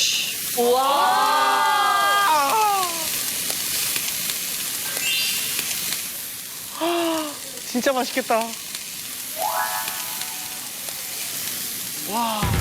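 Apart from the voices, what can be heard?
sizzling grilled week-aged galbi ribs, ASMR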